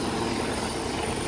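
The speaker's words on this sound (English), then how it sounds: "You can see a United States Coast Guard helicopter behind me, another military aircraft helicopter." A United States Coast Guard helicopter operating during a hurricane rescue, with military aircraft nearby; a loud, close, continuous rotor and engine roar that fills the short stretch without a break and with no voices.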